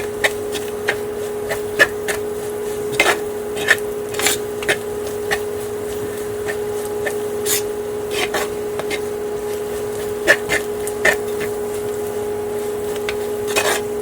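A spoon stirs mill-ground powder in a hot pan on a stove, with repeated light scrapes and clinks over a steady electrical hum.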